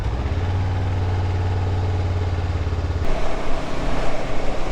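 Honda CB500F motorcycle engine on the road after a clutch replacement, a loud steady low hum that shifts to a rougher, more uneven drone partway through.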